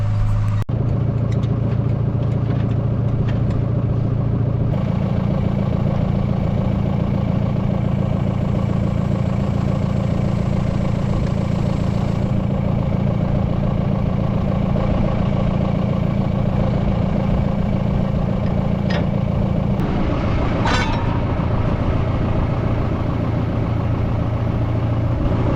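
A farm tractor engine idling nearby: a steady, loud, low diesel drone that shifts slightly in tone about a fifth of the way through, with a brief clank late on and no talking.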